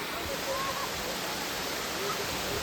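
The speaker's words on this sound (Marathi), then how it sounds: "पावसाच्या गॅपनंतर पाण्याचा जरा फ्लो कमी झाला आहे, तरी तुम्ही पाहू शकता" A hidden waterfall with reduced flow after a dry spell roars in a steady, dense rush of falling water that fills the scene continuously, close and even throughout.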